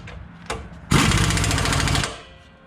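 Impact wrench tightening a bolt on the rear suspension of a Lexus GX470 during a lift, coil and shock install: a short blip, then one loud, close, rapid hammering burst lasting about a second before it cuts off.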